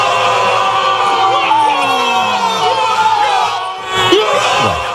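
Neighbours shout and cheer a goal during a Copa América football match, a loud crowd of overlapping yells and whoops with a few voices rising and falling.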